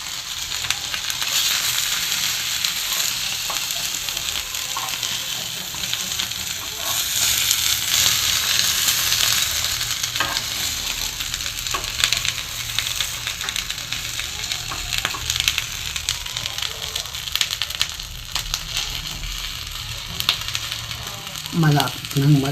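Catfish sizzles steadily in a pan, a dense crackling fry holding fairly level, with occasional stirring and scraping sounds and faint voices now and then.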